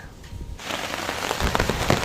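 Steady heavy rain pours down, a dense hiss of drops with louder bursts of splashing toward the end, no voices.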